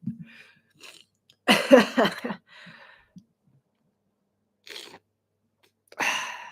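A person sneezes once, loudly and up close, with short breathy sounds and throat noises before it and another burst after a quiet gap.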